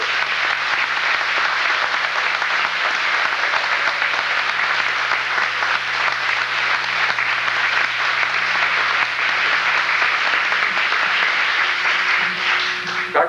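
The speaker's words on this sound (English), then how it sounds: "I think a well-rounded round of applause to support them" An audience at a fire department rookie class graduation and promotion ceremony gives dense, sustained applause, loud and even throughout with no talking over it.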